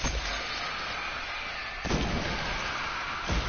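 Firefly explosive rounds from a sniper rifle in Destiny burst with two sharp booming impacts over a steady game background rumble, the first near the middle and a second just before the end.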